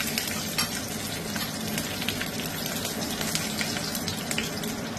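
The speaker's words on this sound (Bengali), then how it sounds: "তেল আর ঘিটা গরম হলে আমরা এতে কাঁচা লঙ্কা 2টো চেরা ও হাফ টিস্পুন কালো জিরে ফোড়ন দেব।" Green chillies and black cumin seeds crackle as they temper in hot mustard oil and ghee, a steady close sizzle with sharp spattering pops throughout and no voices.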